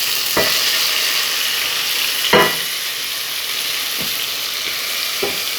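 Tomato and onion fry in a pan for rice with mung beans and dried shrimp. A loud, close, even sizzle fills the whole stretch, broken by a few sharp utensil taps, and nobody speaks.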